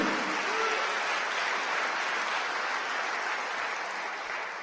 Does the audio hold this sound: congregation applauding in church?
yes